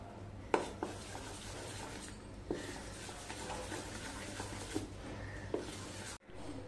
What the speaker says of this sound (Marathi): आणि पुन्हा एकदा 1 ते 2 मिनिटं चांगली फेटून घेऊया